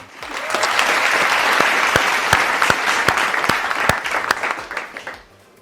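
A studio audience gives a dish sustained applause during an Eid holiday cooking show, steady clapping from a crowd that holds loud and even before fading out near the end.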